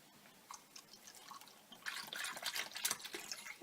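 Rice milk poured into a measuring cup, a soft liquid splash and trickle that starts faint and swells louder over the last half, with light drips before it.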